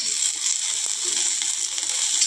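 Garlic sizzles steadily in hot oil in a pan for Kolhapuri kharda chicken, a continuous close hiss with faint stirring clicks and no talking.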